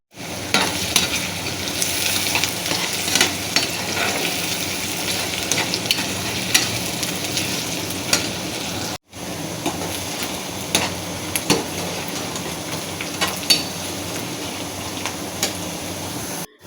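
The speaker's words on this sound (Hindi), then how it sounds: "प्याज को मैंने ऑयल में ऐड कर दिया और अब हम इसे फ्राई करेंगे" Onions frying in oil over medium heat for a chicken methi dish, a steady dense sizzle with scattered crackles and occasional stirring clinks, continuous and close, broken by a brief cut near the middle.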